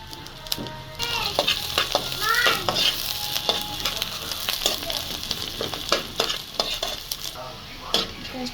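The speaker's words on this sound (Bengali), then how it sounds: "এখানে আমি সরিষার তেল দিয়ে দিলাম, আর পেঁয়াজ আর রসুন কুচি দিয়ে দেবো।" Chopped onion and garlic fry in hot mustard oil in a pan, a loud, steady sizzle with frequent stirring scrapes and light clinks of a utensil, close by and without talk.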